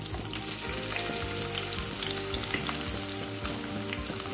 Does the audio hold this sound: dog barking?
no